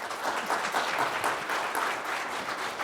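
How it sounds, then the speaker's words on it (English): Audience applause fills the room at a conference talk on chloramine management, a dense, even patter of clapping at moderate distance that holds steady for a few seconds with no talking. "Thank you so much for that applause"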